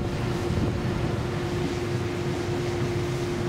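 Boat on a Swiss lake nearing the shore at Bönigen, a steady engine drone with a constant tonal hum under wind and water wash, continuous and fairly loud.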